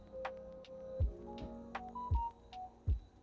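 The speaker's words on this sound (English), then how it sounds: "The phone had a chime on that one there." A telephone sounds a short melodic chime, a few clear tonal notes stepping in pitch, heard close and alone amid low thumps.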